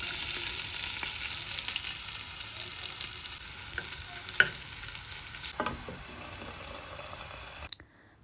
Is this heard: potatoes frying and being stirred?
yes